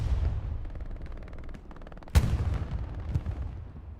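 Gunfire in the World War II shooter Hell Let Loose: a series of sharp shots and short bursts from a machine gunner, with one loud close crack midway and more distant firing around it.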